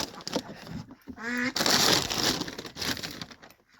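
Loud, harsh duck squawking and honking close by on a farm, three ducks set on one, mixed with scuffling and flapping noises, with a voice speaking at times.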